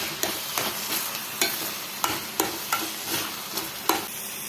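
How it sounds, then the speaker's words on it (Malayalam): Thick carrot halva being stirred in a pan, a spoon scraping through it in repeated strokes at a steady rhythm over a soft continuous background, with no voices. "നന്നായിട്ട് ഇളക്കാം നന്നായിട്ട് കുഴഞ്ഞു വരുന്ന പരുവായിട്ടുണ്ട്"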